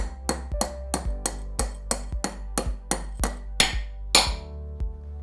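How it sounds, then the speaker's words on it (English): A throughbolt expansion anchor is hammered into a drilled hole with about a dozen sharp, ringing metallic taps at a steady pace, close and clear, the final blows slightly heavier. "Tap the assembled anchor through the fixture and into the hole."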